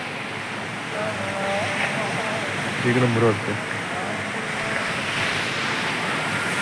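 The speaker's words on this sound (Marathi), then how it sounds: "बघा समुद्र आहे मस्त वेगळा समुद्र आहे" Sea waves at Tondavali beach in Malvan, a steady broad roar of surf with wind noise, while someone talks briefly over it.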